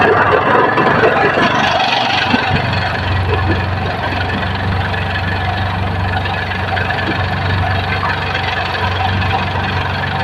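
A Honda Click scooter engine runs steadily at close range, a continuous low rumble with a rough, knocking texture that doesn't let up.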